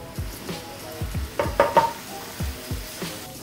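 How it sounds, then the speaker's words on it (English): Bacon sizzling in a pan over medium heat, a soft crackle broken by a series of low thumps and brief clinks as it is handled. "Hang the bacon over a medium heat pan."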